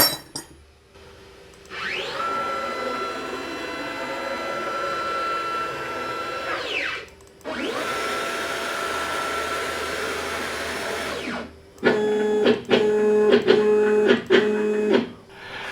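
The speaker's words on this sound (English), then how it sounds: "I can then jog the spindle over to the known position for the workpiece, which is going to be right over the very center of that blank." A CNC machine moves its spindle over a fingerboard blank, giving two long whirring stepper-motor jogs with rising and falling pitch, then a burst of rapid pulsed motor steps, close and alone.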